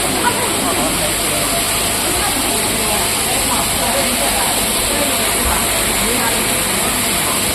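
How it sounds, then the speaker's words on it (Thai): Waterfall on the grounds of a Thai temple at Lam Luk Ka, Khlong 8: a steady, dense rush of falling water fills the whole clip at close range, unbroken and even, with faint voices in the background. "ได้มองเห็นน้ำตก"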